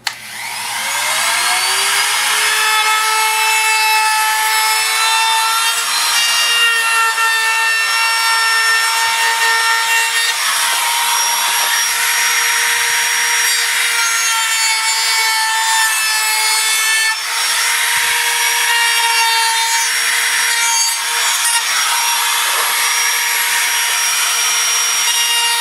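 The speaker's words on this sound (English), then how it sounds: "I'm going to sit there and round over on the outside edge with my router bit. I've got this handheld palm router," A handheld palm router with a roundover bit shaping the outside edge of a wooden box for an edge-lit sign, a loud steady high-pitched whine spinning up at the start and running on continuously near the mic, with no talk.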